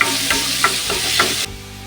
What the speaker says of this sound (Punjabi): ਲਸਣ ਨੂੰ ਚੰਗੀ ਤਰ੍ਹਾਂ ਭੁੰਨ ਕੇ ਇਹਦਾ ਕੱਚਾਪਨ ਕੱਢ ਕੇ ਫਿਰ ਅਸੀਂ ਇਹਦੇ ਵਿੱਚ ਪਿਆਜ਼ ਪਾ ਦਾਂਗੇ